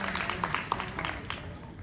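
Guests at a formal gala applaud after the ROTC is acknowledged, a light, scattered patter of hand claps in a large room, fairly soft and thinning out toward the end.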